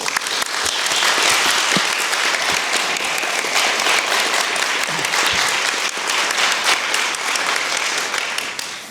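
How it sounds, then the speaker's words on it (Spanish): An audience claps for a poet after a reading, steady applause lasting several seconds that slowly tapers at the end. "Un aplauso para el poeta y su lectura"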